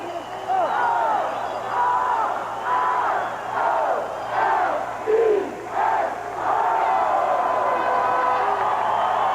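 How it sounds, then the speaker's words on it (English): A large crowd at a 1983 Baltimore Orioles World Series celebration chants an Orioles cheer in rhythmic bursts, each shouted spell rising and falling, loud and echoing outdoors. "One more time I'll do an Oriole cheer."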